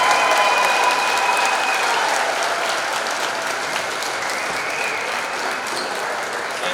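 Big round of applause from a crowd in a high school basketball gym for seniors and their families, sustained dense clapping that stays loud and even for nearly seven seconds.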